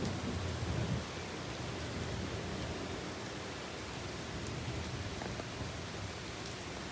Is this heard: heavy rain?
yes